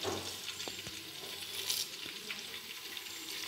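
Cloves, cinnamon, cardamom and pepper fry in oil for kabsa rice with a soft, steady sizzle, broken by a few light knocks from stirring.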